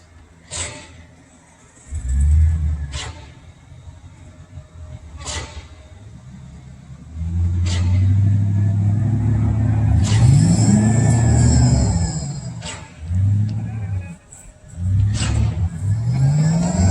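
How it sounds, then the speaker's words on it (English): A stuck truck's engine revs repeatedly in surges, rising and falling in long throaty bursts, fairly close on a concrete pour site, with sharp clanks and knocks between the revs. "Yeah, this truck got stuck down here."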